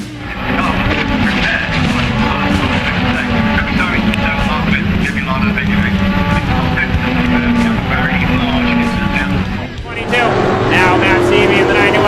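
Race cars roar at speed through a big multi-car wreck, with a dense, loud engine wash and scraping noise throughout and a brief dip before the roar surges again; an announcer talks over it.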